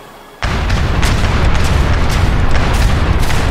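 Ship cannons fire in a naval battle in Age of Empires 3 against Knights of St. John. After a brief quiet start, a loud sustained barrage of booming shots rolls on, with several sharper reports standing out.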